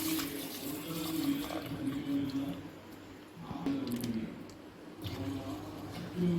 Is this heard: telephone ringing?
no